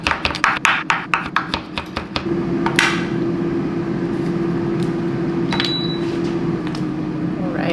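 A knife chops cilantro on a cutting board in a kitchen, a quick rhythmic series of sharp taps, then stops as a steady appliance hum carries on alone.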